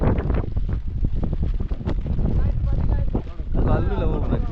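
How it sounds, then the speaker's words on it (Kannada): Strong wind gusting across the microphone on a monsoon trek at Gangadikal, loud buffeting that rises and falls, with people talking over it. "ಗಾಳಿ ನೋಡಿ"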